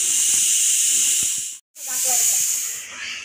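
A kitchen pressure cooker lets off steam in a loud, close hissing whistle that stops briefly, then hisses again, while a voice is faintly present.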